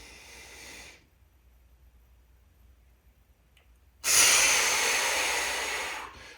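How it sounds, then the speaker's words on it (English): A person takes a deep breath during a core strengthening exercise, a short breathy hiss at the start followed by quiet, then a loud, sustained inhale or exhale rushing close to the microphone. "Inhale."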